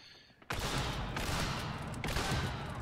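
Shorty shotgun loaded with flechette rounds firing in a first-person shooter, two or three heavy blasts about a second apart, each leaving a dense, sustained roar that fills the short stretch.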